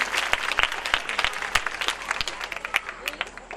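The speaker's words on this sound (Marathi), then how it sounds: "जोरदार टाळ्या आपण वाजवूया." A village audience at a birthday-celebration Home Minister event claps loudly for five contestants in a dense burst of applause that stays strong throughout.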